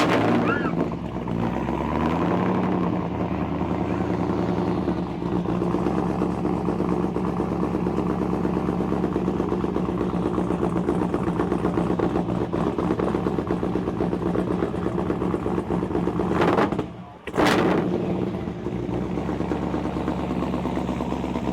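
A hot rod engine with a 3-inch exhaust runs at a steady, loud, rumbling idle for about twenty seconds, close by, with a brief dip and blip around the seventeen-second mark.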